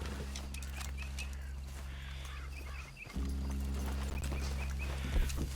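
Horses walking in Red Dead Redemption 2, their hooves clopping in a steady, fairly close rhythm over a low continuous rumble, with a brief dip partway through and a faint snort near the end.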